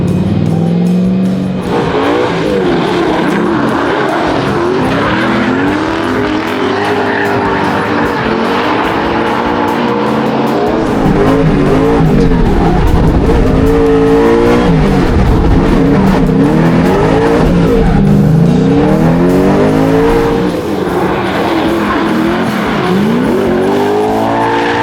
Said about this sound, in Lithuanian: Mašiną leidom ką tik palei blokus